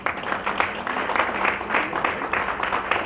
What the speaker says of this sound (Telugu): వారికి ఒకసారి చప్పట్లు.